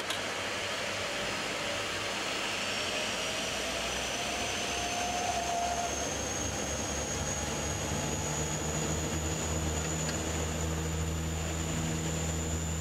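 A Dash 8 turboprop airliner on its takeoff roll from the runway, heard from inside as a loud, continuous engine roar and propeller drone that holds steady and builds slightly.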